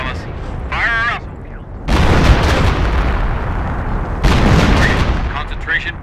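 An artillery barrage fires in the Company of Heroes game, heard as two heavy, sustained rumbling salvos. A voice talks briefly before the first one.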